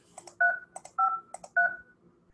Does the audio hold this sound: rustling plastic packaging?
no